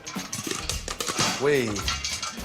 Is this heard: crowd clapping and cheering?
no